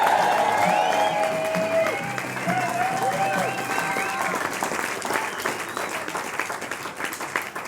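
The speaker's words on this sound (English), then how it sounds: "if everyone would like to make a big round of applause" A large crowd applauds and cheers for surfer Joel Parkinson, the 2013 ASP World Champion. Dense, steady clapping with bright whistles and whoops fills the whole stretch before slowly thinning out.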